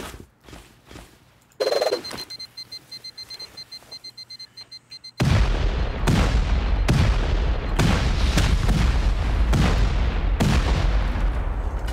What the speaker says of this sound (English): we'll hit one of these walls with one extra rocket